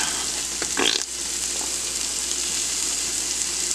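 Butter melts and sizzles in a hot pan with garlic and mashed potatoes, giving a steady close frying hiss with a brief stirring scrape near the start.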